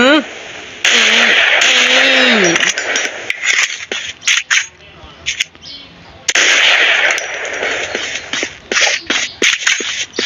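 Gunfire in a childhood shooter video game with sniper rifles, heard as dense bursts of harsh noise that come and go over several seconds while a voice talks throughout.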